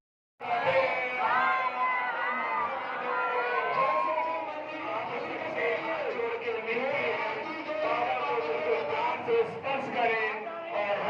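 Dense crowd of Shiva devotees packed into a Kanpur temple on the first Monday of Sawan in the rain, a loud continuous mass of many overlapping voices, chatter and raised calls filling the space from start to finish.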